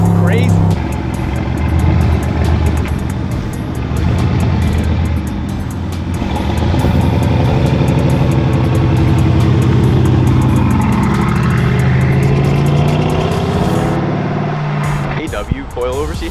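A Mercedes-AMG GT S making about 800 wheel horsepower downshifts, its engine revving and burbling loudly in repeated surges as it passes, with people talking over the engine noise.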